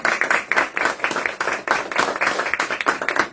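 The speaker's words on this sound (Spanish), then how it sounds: "¿qué les parece un aplauso colectivo?" Collective applause from an audience at a Spanish-language reading event, dense hand clapping that swells and fades in waves over a few seconds, moderately close, with no talk over it.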